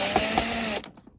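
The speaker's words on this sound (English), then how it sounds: "There's 1, 2, 3, 4 screws there. I gotta take out, which I believe I have the right size drill bit in." A power drill whines steadily up close as it backs screws out of a life-size Gemmy Graves the Butler animatronic, then cuts off abruptly, leaving a faint clatter.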